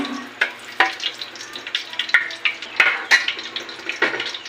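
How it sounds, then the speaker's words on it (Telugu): About two tablespoons of ghee melt and sizzle in a pot of hot oil for chicken pulao, making a continuous close crackle broken by sharp pops and a few stirring scrapes, with no voices. "ఒక 2 టేబుల్ స్పూన్ల నెయ్యి కూడా వేసుకుందామండి. ఇది ఇట్లా కరిగిపోవాలండి."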